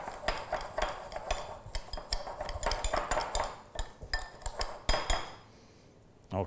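Rice coated in a little oil gets stirred in a pan, the spoon scraping and clinking against the metal in quick, irregular strokes near the listener before the clatter stops.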